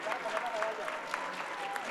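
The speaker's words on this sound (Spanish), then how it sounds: "lo que sí se pueden llevar ahorita y puede ser público es el fuerte aplauso de sus compañeros" Applause from an audience honoring award recipients at a Recrea Academy 2021 Recrea Challenge ceremony, a steady patter of clapping with a voice talking faintly beneath it.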